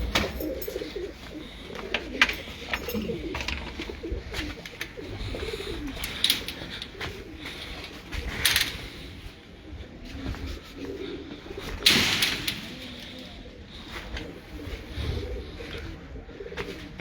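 Red-eyed pigeons coo inside a breeder's cage, low murmuring calls running throughout at a moderate distance, with a few sharper rustles or knocks mixed in.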